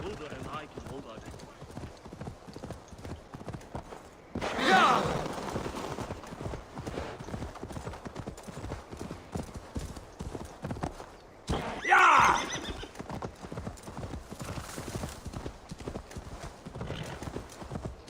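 Galloping horse hooves from Assassin's Creed Valhalla beat in a steady clip-clop rhythm throughout, with two louder surges around five and twelve seconds, a neigh, and speech passing over the hoofbeats.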